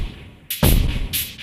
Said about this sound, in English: So if you only play the drums